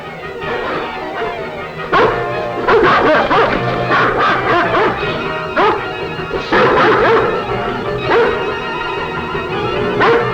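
A dog in a 1941 film barks and yips repeatedly at close range, loud, rhythmic bursts with brief whimpers between them, continuing for the whole stretch.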